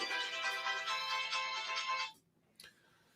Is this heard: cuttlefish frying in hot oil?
no